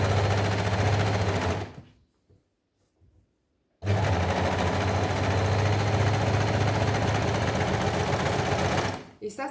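An electric sewing machine stitches a fabric face mask in steady, loud bursts of rapid mechanical whirring, stopping briefly for about two seconds before running again.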